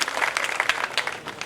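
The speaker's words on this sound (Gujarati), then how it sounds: "આપના માટે એકવાર જોરદાર તાળીઓ થઈ જાય બધા માટે." Applause from an audience gathered at the inauguration ceremony of Shri Ghanshyam lake in Ambardi, Gujarat: a brief, steady burst of many hands clapping together, fairly close and loud, with no voices over it.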